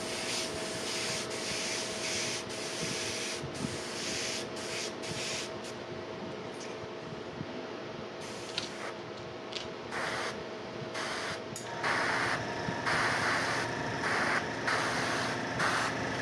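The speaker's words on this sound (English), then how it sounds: "Right now I'm just spraying air." An airbrush sprays plain air between paint colours while a Chaos Knights Wardog model is painted, a steady close hissing rush that runs unbroken throughout and brightens toward the end.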